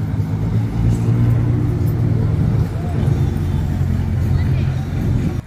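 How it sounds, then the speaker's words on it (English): A Nissan GT-R's engine rumbles nearby as it rolls into a car show, a steady low growl over a murmur of crowd voices. "look, we got a GTR coming in"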